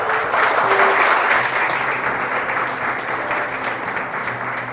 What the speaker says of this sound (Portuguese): Uma salva de palmas para a Virgem Maria.